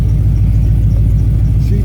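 Steady low engine drone inside a moving car named Bullseye, a continuous rumble with no breaks, filling the whole stretch at close range.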